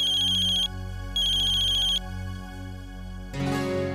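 A mobile phone rings for an incoming call, its melodic ringtone repeating in steady bursts, fairly clear and close, before another sound cuts in near the end.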